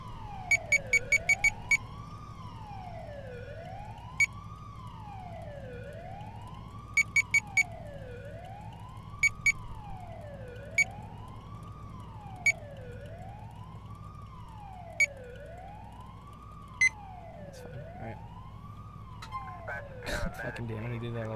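A wailing electronic ambulance siren in GTA IV sweeps up and down in a steady repeating cycle, with sharp clicks and beeps scattered over it and a burst of noise at the end.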